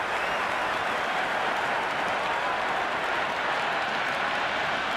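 A packed stadium crowd at an IPL cricket match roaring and applauding, a dense, continuous wash of cheering that stays loud and even from start to finish.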